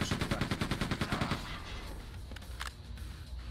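Rapid machine-gun fire in the video game Quake II, a loud burst of evenly spaced shots lasting over a second, followed by scattered single impacts and lingering game noise.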